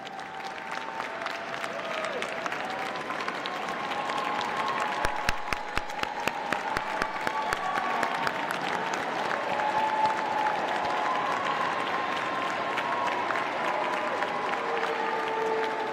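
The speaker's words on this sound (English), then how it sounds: "We'd like to applaud you as well." A large commencement audience in a full hall applauding families and friends, with sustained dense clapping throughout and a low murmur of voices beneath.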